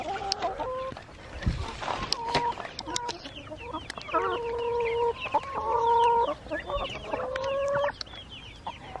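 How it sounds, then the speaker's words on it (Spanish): Chickens and roosters cluck and call repeatedly in a farmyard, several birds close by with overlapping harmonic squawks and short clucks, fairly loud and continuous with no talk. "Yo creo que estos son gallos."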